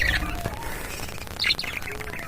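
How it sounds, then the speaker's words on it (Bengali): Budgerigars chirp in a home aviary holding about twenty pairs, with bright bird calls coming in short bursts over a steady background murmur, loudest around the middle. "আমার টোটাল 20 জোড়া বদ্রি পাখি আছে।"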